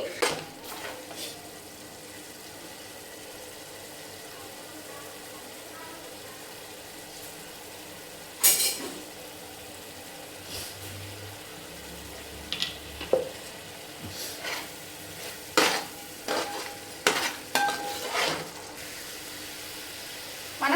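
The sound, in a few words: ginger garlic paste frying in oil being stirred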